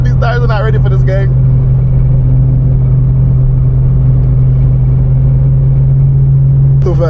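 A 700-horsepower supercharged Infiniti G37 on a back road holds a loud, steady engine drone with deep rumble throughout, and a voice talks over it near the start and again at the very end.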